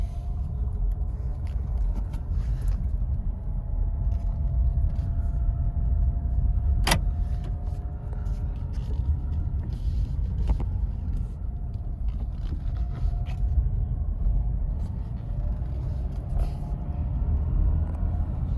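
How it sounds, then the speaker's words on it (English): A 2014 Honda CR-V with under 100,000 miles on a test drive after a spool valve replacement, its steady low engine and road rumble running continuously from inside the cabin, with no talk. "I'll just go for a little test drive just to double check it"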